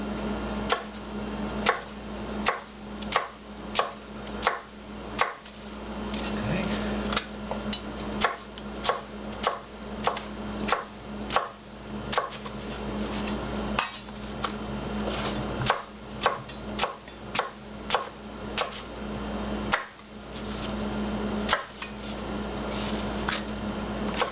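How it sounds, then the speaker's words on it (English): A knife chops jalapenos on a cutting board for pico de gallo, a long run of sharp, fairly regular knocks at close range, sometimes bunched quickly and sometimes spaced apart, over a faint steady background hum. "Now we got our 3 jalapenos cut."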